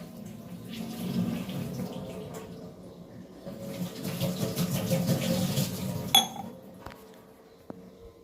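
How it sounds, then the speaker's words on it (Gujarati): A tap runs with a soft, continuous water hiss, joined by faint clinks of dishes and one sharper clink near the end, with no one talking. "પાણી ચાલુ કર્યું છે"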